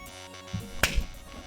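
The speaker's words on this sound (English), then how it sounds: "Sorry about the clap." One sharp hand clap cracks out close by against a steady hum of background noise, followed by a soft low thump, with no talking.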